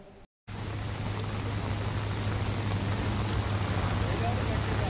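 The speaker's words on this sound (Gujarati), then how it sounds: "36 કલાકમાં 15 ઇંચ સુધી વરસાદ વરસ્યો" Heavy monsoon downpour in Vapi, Valsad district, a loud, unbroken wash of rain noise over a low steady hum, starting abruptly after a brief gap of silence.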